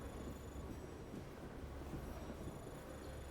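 A train rolls in the Lost Odyssey role-playing game, giving off a steady, dense low rumble with faint wheel noise, continuous and unbroken throughout, with no voices.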